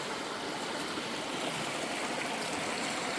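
Steady, continuous rush of flowing stream water, broadband and close, with no talking.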